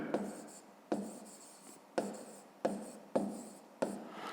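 An answer being written by hand during a fifth-grade maths exercise: about six brisk scratchy strokes, each starting sharply and trailing off, close and fairly soft, with no talking.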